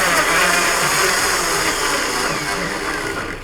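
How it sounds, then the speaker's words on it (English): Watermelon blitzed in a blender without ice makes a loud, continuous whirring roar that stays steady and fades slightly toward the end. "put that directly into a blender, not with any ice, and then just blitz away"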